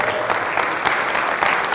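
Church congregation applauding during a Spanish-language sermon, a steady burst of clapping from a crowd indoors, sustained and fairly loud throughout with no talk over it.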